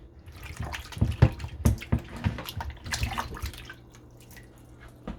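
Tap water splashes and trickles into a bowl being rinsed in a kitchen, with irregular gushes and drips, close and fairly loud, fading toward the end.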